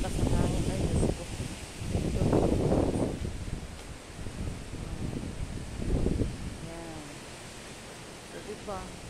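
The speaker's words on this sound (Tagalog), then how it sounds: "meron palang bagyo na walang ano, lakas ng hangin" Strong typhoon wind rushes and gusts across the microphone in loud, uneven surges, with a voice speaking briefly underneath.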